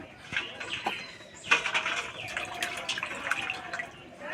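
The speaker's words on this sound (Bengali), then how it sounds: "ডিমগুলো ধুয়ে নেব" Water splashing and dripping as duck eggs are rinsed by hand, with soft clinks and trickles and faint birds in the background.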